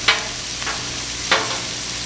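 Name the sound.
onions sizzling on a Blackstone griddle for Philly cheesesteak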